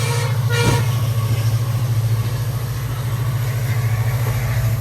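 A train rumbles along the rails with a steady low drone and rhythmic clatter, loud and close, with a short horn toot near the start.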